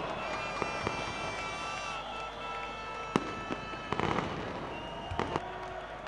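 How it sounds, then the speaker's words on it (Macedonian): Fireworks crackle and pop over a noisy outdoor crowd in Macedonia Square celebrating a win over Lithuania, with scattered sharp bangs and a steady murmur of people. "Уживајте малку во огнометот на плоштадот Македонија"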